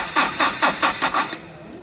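Car starter motor cranking a diesel engine, a rapid rhythmic series of about six whirring cranking pulses, then the engine catches and settles into a quieter steady run.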